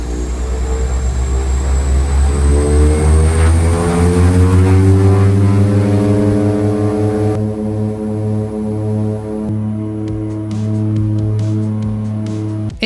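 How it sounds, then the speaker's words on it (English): Winair Twin Otter propeller plane with props spinning, a loud close drone of engine harmonics rising and shifting steadily, with no talk. "So with the props spinning and the noise building, this little plane was about to take me to a runway"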